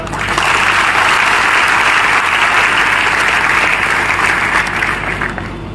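Lecture audience applauding on the life of Ahilyadevi Holkar, steady dense clapping from a large crowd that holds loud and even for about six seconds, with no one speaking over it.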